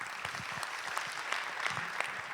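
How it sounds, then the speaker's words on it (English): A conference audience applauds a closing panel, steady moderate clapping from a room of people with individual claps popping out, no talk over it. "So a huge round of applause to our final panel."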